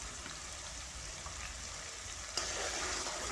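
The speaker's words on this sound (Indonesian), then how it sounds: "kita oseng-oseng juga ya" Balado spices stir-fried in a wok for terong, pete and teri dishes give a steady, close hiss and sizzle, with a brief louder scrape of stirring near the end.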